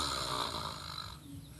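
A narrator's voice imitates the loud snoring of a rabbit sleeping soundly in a Tagalog telling of the tortoise-and-hare children's story: one long, close, raspy drawn-out snore that fades at the end.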